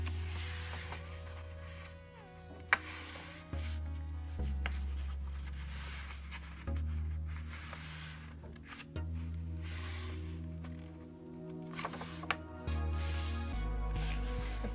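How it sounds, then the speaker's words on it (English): Sheet of A3 paper being folded lengthwise corner to corner, with close, quiet rustling, sliding and creasing and a few sharp crinkles, alone without speech. "take your A3 piece of paper and fold it lengthwise,"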